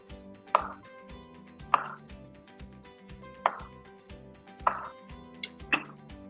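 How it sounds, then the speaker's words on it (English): A knife slicing radishes into thin rounds on a cutting board, with five evenly spaced crisp chops standing alone against quiet room ambience. "let's slice the radishes"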